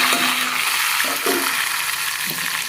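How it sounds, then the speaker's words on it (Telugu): Ground masala frying in oil in a pan, a steady bright sizzle throughout, with a few soft stirring scrapes and bubbling pops close by. "వేయించుకుంటాను ఇలాగా బాగా నూనె వచ్చేదా నూనె బయటకు వదిలేదాకా వేయించుకుంటానే ఉంటాను"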